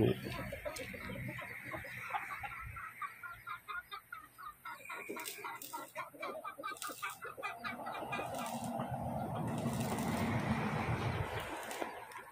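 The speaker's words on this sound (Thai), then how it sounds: "บ้านนี้ก็เลี้ยงไก่" Chickens raised at a house cluck and squawk repeatedly in a busy, fairly close chorus, with brief crowing mixed in while roof work goes on nearby, no talk over them.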